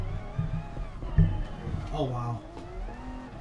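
An LMP prototype race car engine at Le Mans in Gran Turismo Sport hums steadily in the background while a person talks over it.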